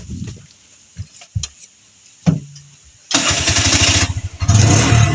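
A Bajaj RE motor tricycle starts up after a few sharp clicks and knocks, then its small engine catches and settles into a loud, close, chugging idle with a brief dip before revving on.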